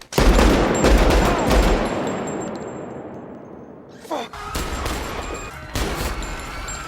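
Gunfire in a Michael Mann film scene: a loud burst of close shots that rings out and decays, followed by more sharp reports and a clattering, echoing aftermath.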